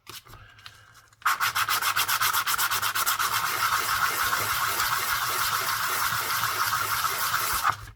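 The edge of a ring made from a US quarter dollar coin is sanded, giving a harsh, rapid, continuous back-and-forth scratching. It starts suddenly after a quiet moment and stays loud and close to the end.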